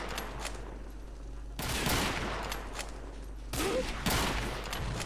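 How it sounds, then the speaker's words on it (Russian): Gunfire in the co-op shooter Hidden & Dangerous 2, during a hilltop bunker assault in Burma, comes as two fairly faint bursts of rapid automatic fire over a low, steady background hum. "Блин, я же тебе в голову стреляю."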